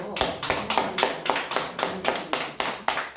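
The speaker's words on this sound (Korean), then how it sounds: "우리 모두 한번 박수로" A church congregation claps in a steady, rhythmic unison beat, about three claps per second, loud and close throughout with no talking.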